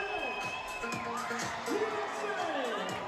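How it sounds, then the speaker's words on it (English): A crowd at a USA versus Brazil volleyball match in 2017 cheers and whoops steadily throughout, a dense, loud roar of many voices with shouts rising above it. "The crowd on their feet."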